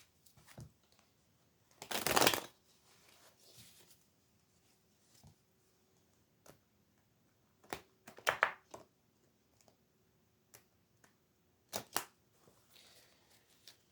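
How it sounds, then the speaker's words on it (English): A deck of tarot cards is shuffled in several short, crisp riffling bursts separated by quiet pauses, close and fairly soft. "Try again now that we've got all the cards in the deck."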